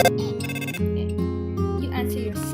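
A cell phone rings with a bright electronic melodic tone that plays continuously and fairly loud, layered with game music or other tonal sounds and no clear talk.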